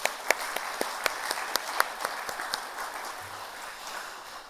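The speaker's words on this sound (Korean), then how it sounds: "우리 모두 한번 박수로 영광을 올려드리겠습니다." A church congregation applauds at a Sunday thanksgiving service, a soft scattered patter of claps with a few sharper individual claps standing out, moderately distant and steady for several seconds.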